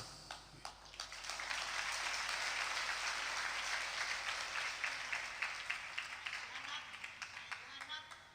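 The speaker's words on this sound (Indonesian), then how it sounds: "Agak terlambat ini tepuk tangannya." Steady applause from a crowd, dense clapping that swells early and then thins out toward the end.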